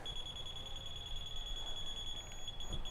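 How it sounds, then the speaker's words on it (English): A laser level receiver's continuous high-pitched electronic beep tone holds steady without breaks, close and fairly loud over faint background noise. "when you get that solid beep, you found your level"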